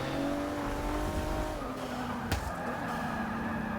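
A Volvo S60 racing in Forza Motorsport 6 brakes late, its engine droning steadily at close range, with a brief sharp transient from the tires partway through and no talk.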